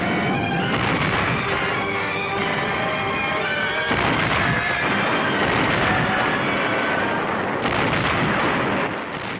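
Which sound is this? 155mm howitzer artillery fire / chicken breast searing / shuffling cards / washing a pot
155mm howitzer artillery fire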